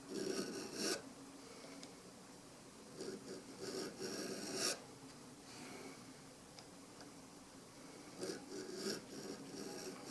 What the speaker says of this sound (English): So I'll rotate the file this way a little bit, put a little more pressure on the part that I didn't cut as much off of.